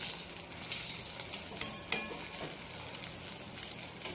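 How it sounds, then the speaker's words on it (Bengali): Eggplant (brinjal) slices fry in a pan with a steady, close sizzle and hiss, broken by one brief clatter partway through. "বেগুন ভাজছি"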